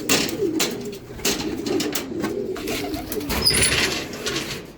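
A racing pigeon arrives at its loft after a training flight from General Luna and coos softly amid a steady outdoor background hum, with faint chirps near the end.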